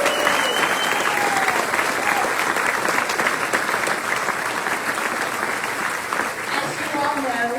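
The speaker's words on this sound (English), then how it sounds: "give a round of applause to all the volunteers and sponsors who provide the Kansas Honor Flight opportunity" A large crowd at a Kansas Honor Flight veterans' welcome-home event in Wichita gives sustained, loud, dense applause for volunteers and sponsors, with faint voices and whistles mixed in.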